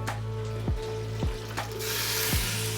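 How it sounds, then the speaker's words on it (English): Bits of meat frying in olive oil and butter for filet mignon, a steady close sizzle with a low hum beneath and a few soft scraping strokes, the frying hiss swelling louder near the end. "I start using the bits of meat, a little bit of olive oil, a little bit of butter right away"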